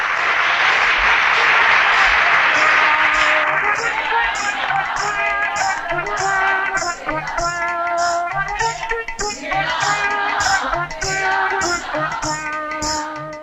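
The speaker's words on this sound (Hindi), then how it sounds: "तालियां।" Applause in a comedy courtroom scene starring Kader Khan, a dense burst of clapping for the first few seconds that then gives way to loud music.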